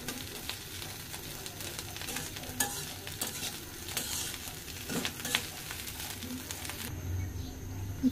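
Bitter gourd (ucche bhaji) sizzles in a pan as a spatula stirs it, close crackling frying with repeated scraping strokes, no voices.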